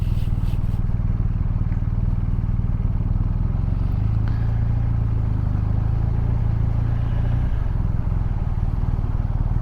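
A 2021 BMW R1250RT motorcycle under way: a steady, close engine drone mixed with constant wind rush, the pitch rising slightly partway through as it pulls along.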